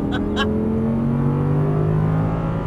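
Audi R8 accelerating hard on a track, a steady engine drone with rising harmonics throughout, close and loud, with brief voice sounds near the start.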